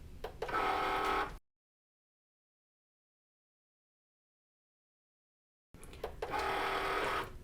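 A Cricut cutting machine slices heat transfer vinyl on the iron-on setting, two short bursts of whirring motor and carriage movement separated by a long silence.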